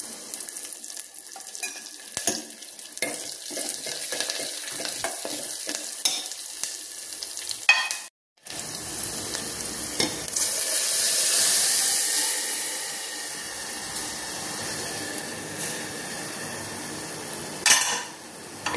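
Curry leaves and onions sizzle and crackle in hot oil for an amaranth curry, with stirring scrapes, a short break, then a louder burst of frying that settles into steady sizzling.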